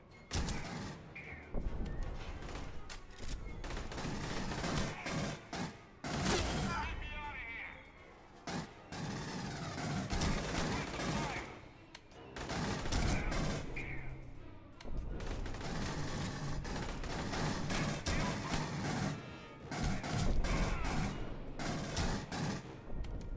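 Pulse rifle fire in the Aliens: Colonial Marines video game, dense bursts of automatic shots rattling on and off through the clip, loud and close, with voices talking over and between the volleys.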